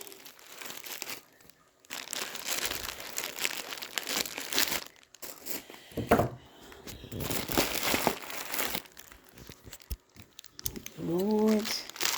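Plastic bubble wrap packaging from an AliExpress order crinkles and rustles in bursts up close, with brief pauses between handlings and a short vocal sound near the end.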